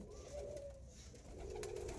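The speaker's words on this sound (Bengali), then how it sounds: "যে কটা বাচ্চা দেখাবো সব আন্ধ্রা পায়রাই দেখাবো।" Andhra breed pigeon chicks, now grown and feeding, coo softly in a low, drawn-out murmur that rises and falls over a steady background hum, fairly faint and without any voices.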